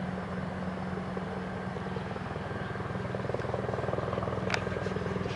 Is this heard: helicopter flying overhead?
yes